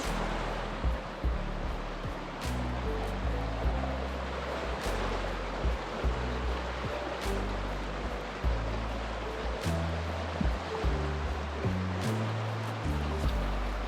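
A fast alpine glacier stream near Lake Tekapo rushes and churns continuously, a broad steady roar of flowing water with low rumbling, close by and fairly loud.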